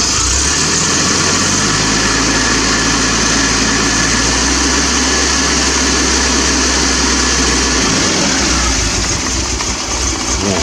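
A cold Triumph TR7 engine idles roughly, a steady close rumble with a deep low drone that drops away near the end.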